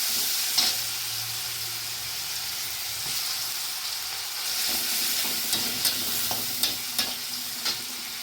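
Onion paste sizzling in a frying pan with a little turmeric and salt, giving a steady broad hiss throughout with occasional sharper spatters and pops near the end.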